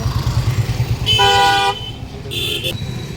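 Car horns honk in busy Indian street traffic, one long blaring toot and then a shorter higher beep, loud and close over a rumbling engine and road noise.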